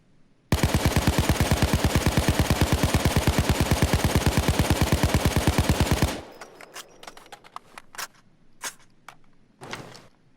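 A Colt 727 (AMCAR) assault rifle in Payday 2 fires full auto in one continuous, loud, rapid, evenly spaced burst lasting about five and a half seconds, followed by scattered clicks and mechanical clatter.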